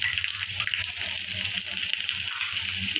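Bhaji masala, red chilli powder and bay leaf sizzle in hot oil, a close, steady bright hiss of frying for a few seconds with faint low clatter underneath.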